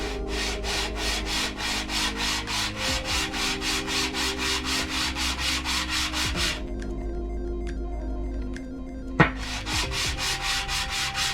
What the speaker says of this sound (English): So this is the 600 grit. I'm going to start with that first.